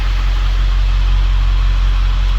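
A 7.3L Powerstroke diesel in a one-ton dump truck running steadily, a low continuous engine drone with constant loudness and no talk.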